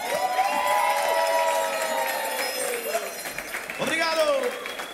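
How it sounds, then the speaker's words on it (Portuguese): Audience cheering and shouting at a live forró show, a dense, loud crowd roar sustained throughout with a swell near the end, while a singer's voice rises over it. "eu gostaria que vocês aplaudissem com muito fervor"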